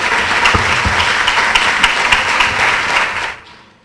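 A Head Start community audience gives a big round of applause for honorees such as Mother and Father of the Year, with loud, dense clapping and a few sharper claps that fade out abruptly at the end.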